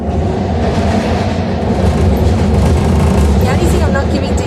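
A SkyTrain at Production Way station in Vancouver gives a steady, loud rail rumble with a continuous mechanical roar that stays close and even from start to finish.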